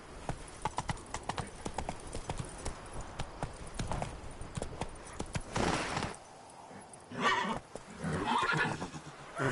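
Roach, the horse from The Witcher, gallops with rapid, close hoofbeats, then lets out a couple of loud neighs and whinnies near the end.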